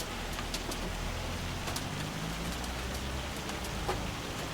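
Steady rain patters evenly in the Farming Simulator 25 game, a constant soft hiss with scattered faint drop clicks and a low rumble beneath, no voices.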